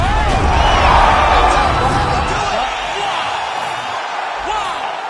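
A large arena crowd roars and cheers loudly at the end of a fight, a dense wash of noise that slowly eases, while commentators talk over it.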